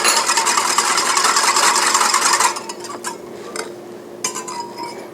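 A whisk beats gluten-free, dairy-free bread batter with olive oil in a bowl, producing steady, loud scraping and clinking against the bowl for a few seconds, then scattered softer taps and scrapes.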